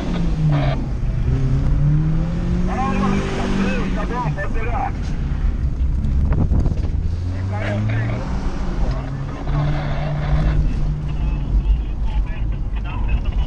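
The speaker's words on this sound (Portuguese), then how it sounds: "Passou uma moto com dois aqui" A motorcycle carrying two riders passes on a road in Santa Catarina, its engine rising and falling in pitch as it goes by, mixed with louder nearby vehicle engine noise and people talking.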